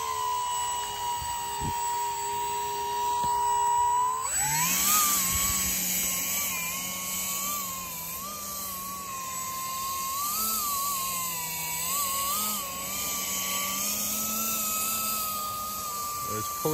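A Palaform X500 hovercraft engine running loud and steady, its whining drone rising in pitch as the throttle is turned up partway through, then holding at a higher, slightly wavering pitch.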